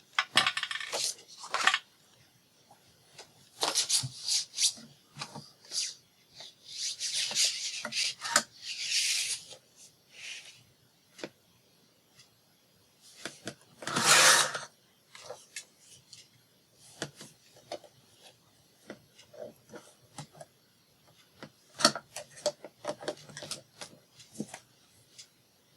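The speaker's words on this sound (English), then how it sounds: "Paper trimmer moved and I have to move it back or I don't have enough room" A bulky paper trimmer is shifted back into position on a crafting table, giving scattered scraping, rubbing and clattering bursts over about half a minute, with a louder grinding drag partway through and quieter knocks between.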